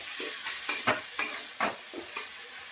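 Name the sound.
stirring capsicum and vegetables frying in spiced oil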